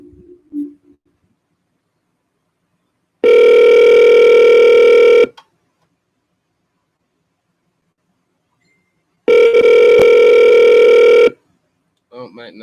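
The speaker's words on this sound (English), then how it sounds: "So we just rebooted the machine over here, the phone machine." A computer used as a phone machine plays a loud electronic dial tone in two separate bursts of about two seconds each, with brief speech before and after them.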